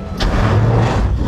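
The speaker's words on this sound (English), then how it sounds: "drivers, start your engines" Race car engines rumbling loudly together on the starting grid of a Pirelli World Challenge GT race, a steady dense roar with a brief rising rev.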